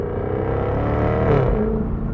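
A 2021 Jaguar F-Type R convertible with a supercharged V8 rumbles steadily through a manual downshift on an entrance ramp, engine note swelling briefly at the shift with continuous road and wind noise underneath.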